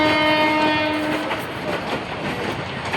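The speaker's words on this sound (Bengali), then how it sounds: "চট্টগ্রামে যে ঢাকার ট্রেনে রওনা দিল দেখুন।" A train leaving Chittagong railway station for Dhaka sounds a loud sustained horn, then continues with a rumbling, clattering roll of wagons close by and no voices.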